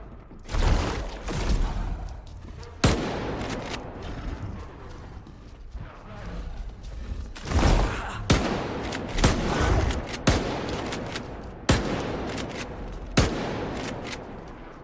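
Repeated gunfire in S.T.A.L.K.E.R. 2, loud sharp shots arriving in irregular bursts across the whole stretch, with clattering game mechanisms and some speech in the background.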